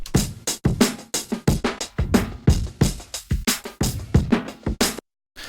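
A looping drum break runs through Ableton's Overdrive distortion, each kick and snare hit crunchy and saturated, with a thick gritty tail in a steady groove and no talking, cutting off sharply near the end.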